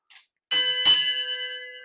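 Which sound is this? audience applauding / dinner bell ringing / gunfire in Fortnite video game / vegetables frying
dinner bell ringing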